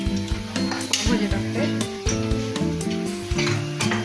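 Vegetables for pav bhaji sizzle and fry in a pan while a utensil stirs and scrapes through them, steady and close throughout.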